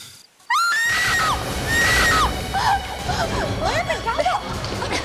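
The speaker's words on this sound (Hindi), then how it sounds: "किसी की चीखने की आवाज आई।" A loud, high-pitched scream bursts in after a short silence, wavering and sliding in pitch, with other voices clamoring alongside it.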